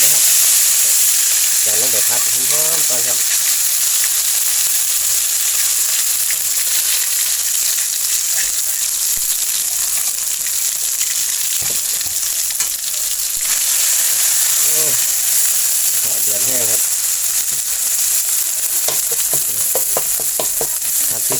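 Loud, continuous hissing sizzle of hand-pounded curry paste frying in a hot wok, with occasional stirring and brief voices underneath.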